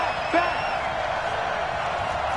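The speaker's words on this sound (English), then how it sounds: "the crowd getting into it as we come up on a big 3rd down" A stadium crowd in an American football video game on PS4 roars steadily throughout, with a brief whoop rising near the start and an even wash of noise after it.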